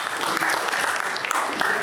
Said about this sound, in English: I'd like for you to applaud yourselves, okay? Applaud yourselves.